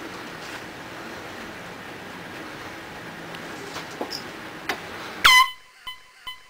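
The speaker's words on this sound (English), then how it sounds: "Air horn. Air horn." A single loud air horn blast cuts in near the end after several seconds of quiet room ambience, then quickly fades in a short echo.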